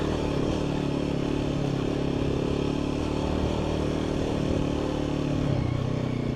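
An adventure motorcycle's engine drones loud and steady while the bike climbs a hill off-road, with a constant low rumble and faint clatter throughout.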